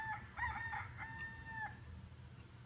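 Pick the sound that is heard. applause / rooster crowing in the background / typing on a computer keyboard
rooster crowing in the background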